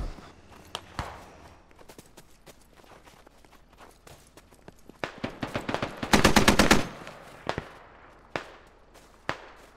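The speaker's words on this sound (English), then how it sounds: "They shot up blue building." Gunfire in a military video game, with scattered single shots building into a loud rapid burst of automatic fire midway, then more isolated cracks, some near and some more distant.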